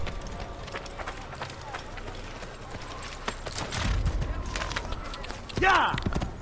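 Horse hooves clatter in a quick running rhythm in the video game Assassin's Creed, steady under game ambience, with a louder thump and whinny-like burst near the end.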